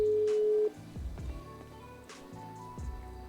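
A phone ringtone in a game with VR and metaverse scenes, a steady electronic tone followed by repeating melodic beeps, fairly loud and heard alone.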